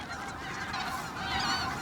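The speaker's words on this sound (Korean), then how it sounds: "만찬을 즐기는 기러기들." A flock of wild geese feeding together in winter honks continuously in overlapping calls, a faint, dense chorus heard at some distance without any talking.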